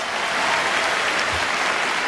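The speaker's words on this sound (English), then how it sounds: "big round of applause" Steady audience applause fills a concert hall at a peace-themed music event, dense and continuous throughout, with no voices rising above the clapping.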